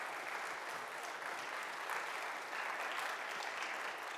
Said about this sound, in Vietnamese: Một lần nữa chúng ta làm một tràng pháo tay cổ võ và cảm ơn anh chị